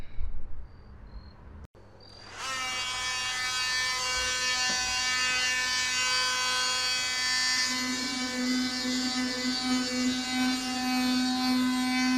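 A power sander works on the rust-repaired quarter panel of a 2006 Nissan Altima, starting up after a brief pause into a steady, loud, high-pitched whine and buzz that holds throughout, close by.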